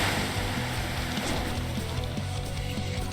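A rushing, churning water effect from the Water Wheel move in the video game Demon Slayer RPG 2, a continuous loud wash of splashing water with a steady low rhythmic pulse beneath it, and no voices.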